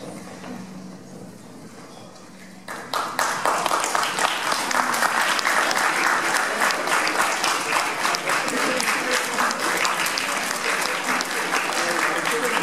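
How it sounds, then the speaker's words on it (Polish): Audience at a school astronomy day performance bursts into sustained applause after a quiet stretch of room tone, dense rapid clapping filling the hall for the rest of the stretch. "Poproszę jeszcze raz o wielkie brawa za występ."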